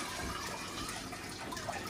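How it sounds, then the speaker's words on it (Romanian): Dirty water from a pet fish tank pours steadily in a continuous, splashing stream with no speech, close and even for the whole stretch. "Și acum să băgăm și apa asta murdară de la ei."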